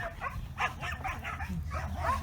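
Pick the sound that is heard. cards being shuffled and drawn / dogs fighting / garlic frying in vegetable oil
dogs fighting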